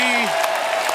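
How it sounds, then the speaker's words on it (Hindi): A crowd at a television show event claps and cheers in a short, dense burst while a voice briefly carries over the start. "एक बार जोरदार तालियां हमारी पूरी"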